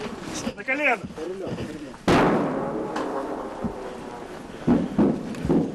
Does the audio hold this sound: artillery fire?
yes